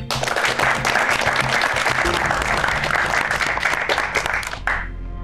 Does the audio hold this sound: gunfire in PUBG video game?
no